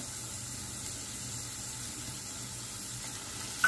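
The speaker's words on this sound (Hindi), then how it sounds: "आपण आता 2 कांदे बारीक चिरून घेतलेले आहेत, ते आपण घालूया" Finely chopped onions sizzle in hot oil with garlic and green chilli, a steady, faint hiss throughout, ending with a small clatter.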